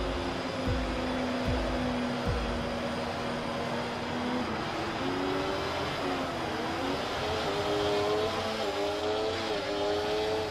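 A Formula 1 car lapping a track in the racing game F1 24, played in VR, its engine whining loud and steady throughout, pitch rising and falling as it shifts through gears.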